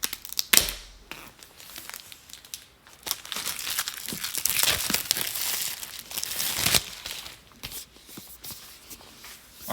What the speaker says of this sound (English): let me unwrap the plastic